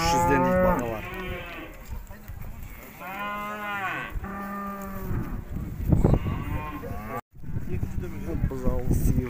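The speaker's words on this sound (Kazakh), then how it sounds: "Қызылғасқа сиырлар." Red white-faced cows moo repeatedly at a livestock bazaar in Urzhar, long loud bellows near the recorder, with crowd chatter and people talking throughout.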